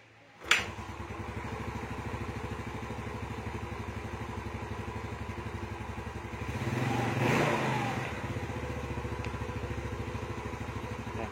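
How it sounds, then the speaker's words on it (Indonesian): A Yamaha Mio Sporty scooter engine, freshly reinstalled, starts with a sharp catch and then runs at a steady close idle, swelling once into a brief rev before settling back. "Suara mesinnya adem banget kawan ya."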